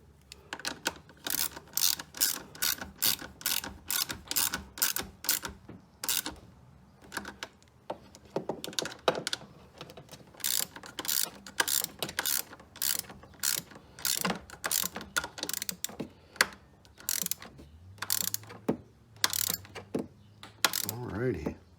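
Bolts are snugged down on a Predator 3500 inverter generator being converted from gas to propane, giving rapid repeated ratchet clicks in bursts, close and fairly loud, with short pauses between runs and no talking.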